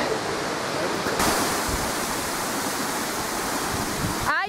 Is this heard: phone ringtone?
no